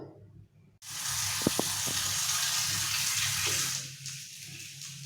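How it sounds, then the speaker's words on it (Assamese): Potatoes sizzle in hot oil in a pan where fish was fried just before, a sudden loud hiss that starts abruptly and holds steady, with a few small clinks, then eases. "এয়া মাছ ফ্ৰাই কৰিলোঁ আৰু ভাজি আছোঁ আলু"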